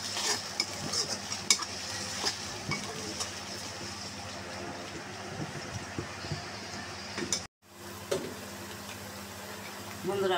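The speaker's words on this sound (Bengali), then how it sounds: "পেঁয়াজটা আমি ভালো করে নরম করে একটু ভেজে নিই" Chopped onion frying in a pan for a Bengali catla fish curry, a steady close sizzle with scattered scrapes and clinks of a spatula stirring, briefly dropping out before resuming, with someone speaking now and then.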